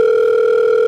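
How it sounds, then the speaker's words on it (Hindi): A phone rings with a steady, continuous electronic tone, loud and close, holding unbroken throughout with no voices over it. "सर आपका फोन आ रहा है।"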